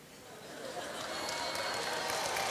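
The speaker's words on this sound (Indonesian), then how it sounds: "Dia tepuk tangan." Church congregation clapping during a sermon, a steady wash of many hands that builds slightly and stays moderately loud, with a faint murmur of voices underneath.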